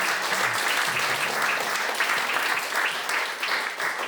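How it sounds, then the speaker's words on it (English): A live audience applauds a lighting panel discussion with dense, continuous clapping that stays fairly loud throughout. "Round of applause for our panel."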